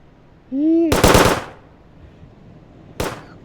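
Rapid bursts of automatic gunfire from a shooting video game: a short rattling volley, then a lone sharp shot a couple of seconds later, preceded by a brief electronic tone.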